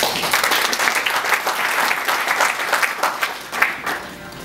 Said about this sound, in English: we must give them a round of applause for that